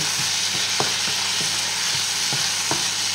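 Bacon lardons fry in their own rendered fat, a dense continuous sizzle with a few light clicks of stirring, close and steady, no voices.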